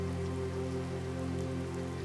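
Monsoon rain pouring onto a tent, a steady dense patter on the fabric under a low sustained hum, continuous and fairly close throughout the short stretch.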